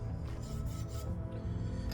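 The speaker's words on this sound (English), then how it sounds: "we're going to sand this until the chalk is gone" Steady rasping rub of sandpaper on acoustic guitar wood, sanding a radius into it, close and continuous with even back-and-forth strokes and no talk.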